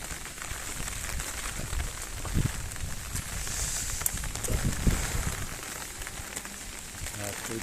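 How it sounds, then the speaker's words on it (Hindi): Heavy rain that has been pouring all night patters steadily as a broadband wash, with a few louder drips and thumps nearby and no voices. "रात भर से बरस रहा है।"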